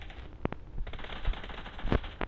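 Video game machine gun fire rattles in short bursts amid a busy battle, with several sharp nearby shots standing out over continuous background gunfire.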